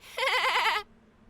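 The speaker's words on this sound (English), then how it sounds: "He laughs like a goat, or a sheep." A character in the Tiny Bunny video game gives a goat-like bleating laugh, one wavering, quavering cry of about two-thirds of a second, loud, close and alone.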